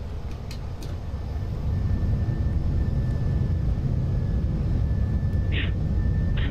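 A simulated airliner spools up for its takeoff roll from runway 34 right in the Prepar3D flight simulator, giving a steady, loud, broadband engine roar that swells after the first couple of seconds and then holds constant, with a faint tone running beneath it.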